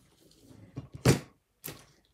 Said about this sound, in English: Shut my fridge door.